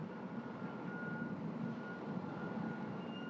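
Trucks moving containers at a Burlington Northern intermodal rail yard, a faint reversing beep tone over a broad steady engine rumble heard from a distance.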